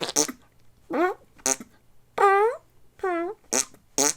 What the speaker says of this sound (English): Farts keep getting louder.